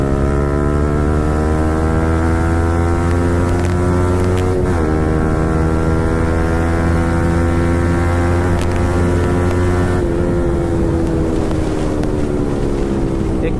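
Yamaha R15 V4 motorcycle fitted with an Akrapovic exhaust, riding at speed: a loud, steady harmonic engine drone that shifts pitch at a downshift near the middle, then settles into a rougher, lower note with wind noise.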